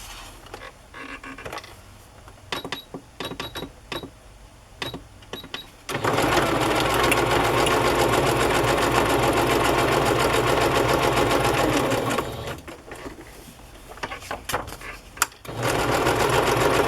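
A sewing machine stitching small pieces of lace and fabric runs in a loud, steady whir for several seconds, stops amid brief clicks, then starts up again nearby.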